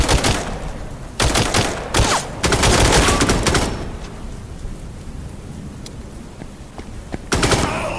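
Gunfire in the remastered video game Incoming Storm: loud, close bursts of automatic fire crackle in several sharp volleys, with quieter stretches of ambient rumble between them.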